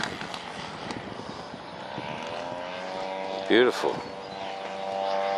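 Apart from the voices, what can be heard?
warbird aircraft landing with full flap under power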